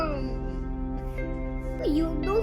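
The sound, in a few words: child imitating a toy tractor's engine sound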